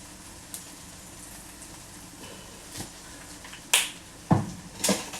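Honey drizzled over oven-cooked chicken seasoned with cayenne pepper sizzles in a few sharp, crackling bursts near the end, over a faint steady hiss.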